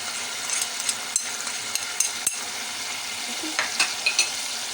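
Spiced eggplant roasting in oil with turmeric, crushed chilli and salt for achari baingan, giving a steady close sizzle broken by a few sharp scrapes of stirring.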